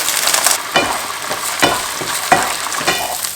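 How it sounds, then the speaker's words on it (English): Onion and peas fry for fried rice, a loud close sizzle punctuated by repeated sharp scrapes and knocks of a spatula stirring the pan. "To this we want to add about a cup of peas."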